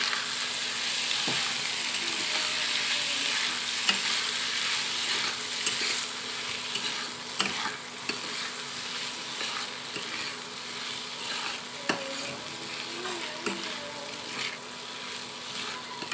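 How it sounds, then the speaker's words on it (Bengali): Homemade wheat flour noodles fry in a pan with a steady broadband sizzle throughout, broken by occasional sharp clinks and scrapes of stirring; no one speaks. "নুডলসগুলো দিয়ে একটু ভেজে নেব।"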